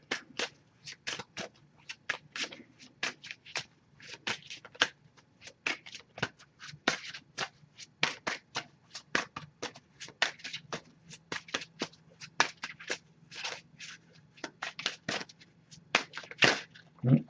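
A deck of Message of Love oracle cards is shuffled by hand during a tarot reading, giving a steady run of quick, crisp riffles and flicks, close and fairly loud, with no talking.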